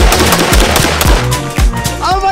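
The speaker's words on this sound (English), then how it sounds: "Moving on to the AR-15." AR-15 rifle gunshots fire in a rapid, loud string of sharp reports with strong, booming low ends, sounding like game or simulated fire. A brief voice-like or electronic tone rises near the end.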